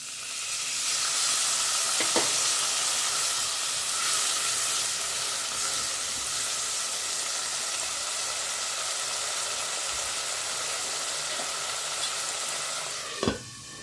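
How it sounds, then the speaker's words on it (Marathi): Cashew-nut vegetable sizzles steadily in a pan as a little water is poured in just before the lid goes on, a continuous close frying hiss with faint stirring clicks and no talking. "आता झाकण ठेवायच्या अगोदर आपण ह्याच्यात थोडंसं पाणी टाकून घेऊया"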